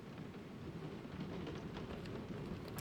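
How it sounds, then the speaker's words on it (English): Steady rainfall in the video game Guardians of the Galaxy, a continuous even hiss holding at moderate level throughout with a low rumbling undertone, no voices present. "Of course, it had to be raining."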